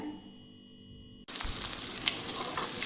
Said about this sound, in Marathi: तेल मस्त गरम झालेलं आहे आणि मी आता हिरवी मिरची लसूण अद्रक टाकून घेते